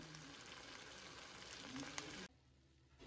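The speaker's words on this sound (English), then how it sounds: "I'm going to continue to fry it" Pambazo filling frying in a pan gives a faint, even crackling sizzle that runs steadily and then drops off abruptly near the end, with no talking.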